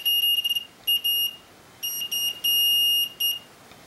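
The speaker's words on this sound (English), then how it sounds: "whenever you break it, the alarm goes off" A laser fence alarm shrills in loud, high-pitched electronic beeps. The bursts come in uneven on-off runs, some short and some held for nearly a second, over a quiet background.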